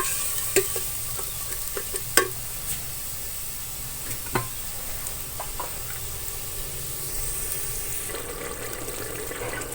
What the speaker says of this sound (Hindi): मसाले को थोड़ी देर भून लेंगे।